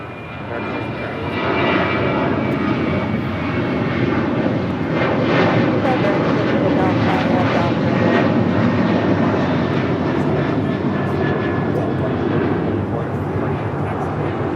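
Alaska Airlines Boeing 737-900ER jet departing from LAX, a loud, steady, broadband engine roar that holds strong and close throughout, with faint talk underneath.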